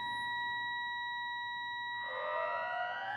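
A wailing emergency siren in a video game night scene, steady electronic tones that rise and sweep upward toward the end, loud and uninterrupted.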